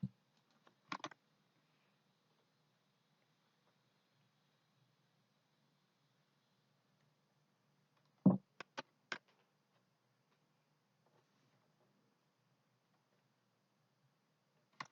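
A few short bursts of computer keyboard typing, quick key clicks clustered near the start and again midway, close and fairly quiet over a faint hum, separated by long pauses with no talking.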